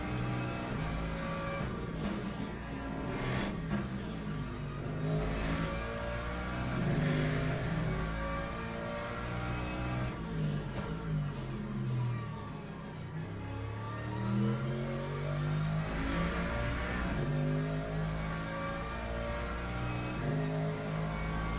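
Mercedes GT3 race car engine in a racing sim, heard from the cockpit, revving up and down through gear changes with steady, loud, continuous engine tone and no talking.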